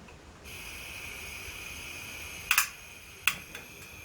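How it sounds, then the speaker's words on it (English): A camp stove on a motorcycle camping trip hisses steadily once the gas is opened, with a couple of sharp igniter clicks and ticks; faint and close, no talk. "let's get the old cooker going"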